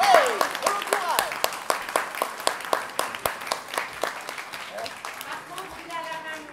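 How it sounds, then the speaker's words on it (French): An audience applauds with dense, steady clapping that holds throughout, with voices mixed into the clapping. "Allez, on peut l'applaudir."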